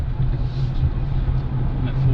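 An old animal-control Ford Ranger pickup that sat three years merges onto a highway, heard as a steady loud low engine and road rumble from inside the cab for about two seconds.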